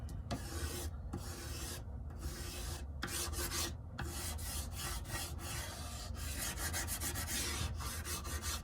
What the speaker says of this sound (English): I'm taking my chalk on the side to rub it in and get all of that white fur.